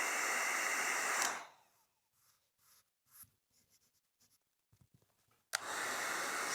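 A heat gun blasts a loud, steady airy roar while warming vinyl wall wrap, cuts off for a few seconds of quiet rustling and handling noises, then roars back on.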